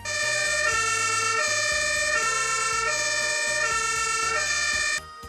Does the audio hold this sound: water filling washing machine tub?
no